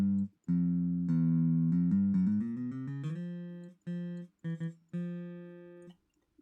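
Electric guitar played on the neck pickup through acoustic impulse responses: a strummed chord followed by a run of single picked notes, then a few separate plucks that ring out before fading, fairly quiet, with no voices.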